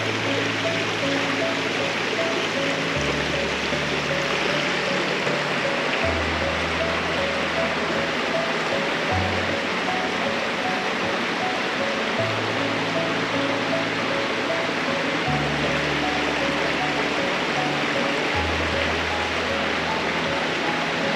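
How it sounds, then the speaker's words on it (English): Buttermilk Falls pours in a constant broad rush of falling water, steady and fairly close, with a low, intermittent tonal hum layered underneath. "this is Buttermilk Falls"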